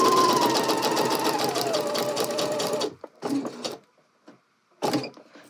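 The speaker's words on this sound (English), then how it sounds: "we're going to stitch all the way down to this dot here in the pocket bag" A sewing machine stitches down to a pocket bag in a steady close whirring run, then stops, leaving a few short mechanical clicks and rustles of fabric being handled.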